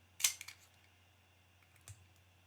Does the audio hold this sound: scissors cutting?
yes